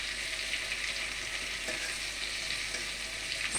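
Vegetables frying in a pan for a home-cooked meal, a steady close hiss of sizzling oil with a few faint stirring clicks throughout, no voices.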